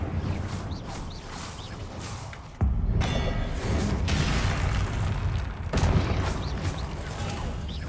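Blasting spell explosions and combat magic in Hogwarts Legacy, with loud broadband bursts at about 2.6 and 5.7 seconds rising over a continuous rumbling battle din, loud and close throughout.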